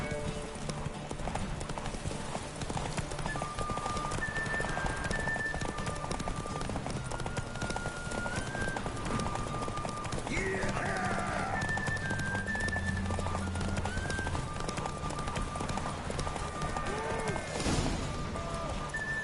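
Horse galloping in a race in the video game The Witcher 3, steady rapid clip-clop hoofbeats running throughout with game music and occasional speech layered over them.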